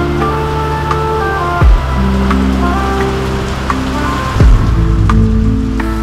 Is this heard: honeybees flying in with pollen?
no